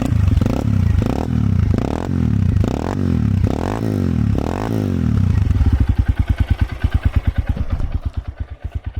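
A carbureted Honda XR150L dual sport motorcycle fitted with a Yoshimura RS-2 slip-on exhaust, cranking and firing in loud rhythmic surges up close, then settling into a fast, even single-cylinder idle that thumps steadily toward the end.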